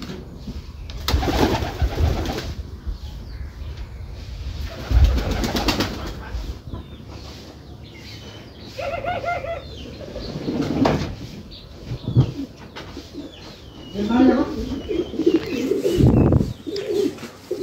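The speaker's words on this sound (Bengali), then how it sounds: "দেখুন বাইরে কবুতরগুলো কিভাবে ঘোরাফেরা করেছে।" Pigeons coo in low, repeated calls outside their newly renovated earthen-floored pigeon house, with bird chirps, scattered knocks and handling noises in between.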